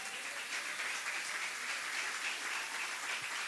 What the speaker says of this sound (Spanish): Dé un aplauso al Señor.